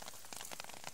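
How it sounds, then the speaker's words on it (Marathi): Rain falls in a forest where cattle are grazing, a faint, soft patter of scattered drops striking surfaces for a brief moment. "बघा पाऊस"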